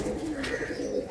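Girbaz pigeons, a Bangladeshi flying breed, coo steadily in a close, continuous low burble with no talk over it.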